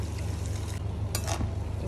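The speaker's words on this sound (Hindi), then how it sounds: "और साथ में यहाँ पे डाल रही हूँ 1 गिलास पानी।" A glass of water is poured into a pot of cooking hariyali dal with spinach, a close, continuous pouring splash over a low background hum.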